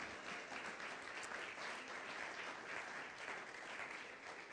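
Sustained applause from a church congregation, a thick steady roar of many people clapping at once, quite distant and low in level, unbroken and with no voices on top.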